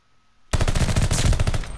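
Automatic gunfire in Call of Duty Vanguard during a ranked Search and Destroy match: after a half-second of near silence, a loud, continuous rapid-fire burst rattles on to the end.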